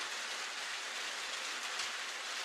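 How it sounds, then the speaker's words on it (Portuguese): Rain falls in a steady, even hiss, a constant patter with a few faint low thumps underneath and no talking. "Está chovendo!"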